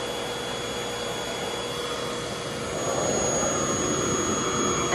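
A RevAir reverse-air hair dryer roars steadily with hair being fed into it, a loud close suction whine with a high tonal hum that grows slightly louder and denser partway through.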